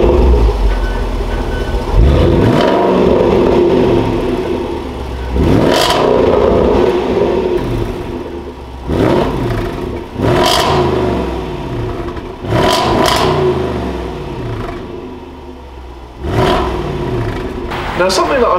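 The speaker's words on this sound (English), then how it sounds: "let's just start it up" A Range Rover SVR engine fires up and revs repeatedly, each rise in pitch swelling loud and dropping back to idle between bursts.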